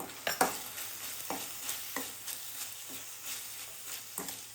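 Leafy greens fry with chili powder, garlic, sesame and roasted gram while a spoon scrapes and knocks against the pan in a loose, repeated rhythm over a quiet sizzle.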